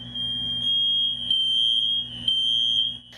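An apartment building fire alarm rings steadily and loudly with a piercing electronic tone, continuous for the whole stretch with only slight level dips, and no voices present.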